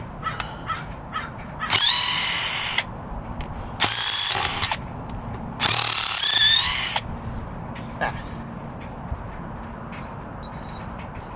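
Black + Decker drill driving a screw into hard wood in three loud whining bursts with pauses between, the motor straining under load; faint background noise fills the gaps.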